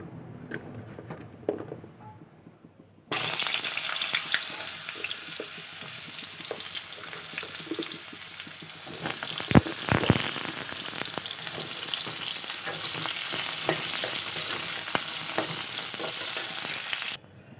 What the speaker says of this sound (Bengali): এখন পটল আলুগুলো ভেজে নেবো